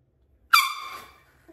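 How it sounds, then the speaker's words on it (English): A single sharp air horn blast, loud and piercing, starting abruptly after silence and fading out over about half a second. "you're playing with the air horn"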